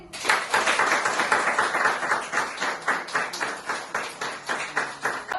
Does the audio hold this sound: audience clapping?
yes